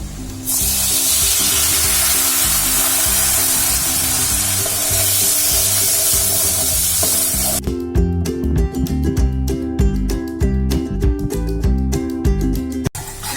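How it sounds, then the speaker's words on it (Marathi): Water poured into a hot pan of red chilli masala for Malvani taro-leaf curry erupts into a loud, steady sizzling hiss, followed by rattling, clanking stirring of the spiced mixture, with no voices. "त्यामुळे मी थोडंसं पाणी टाकते."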